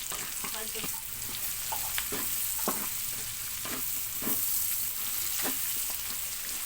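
Garlic and spices sauté in a pan while laing is cooked, giving a constant soft sizzle broken by repeated scraping stir strokes, close and fairly quiet.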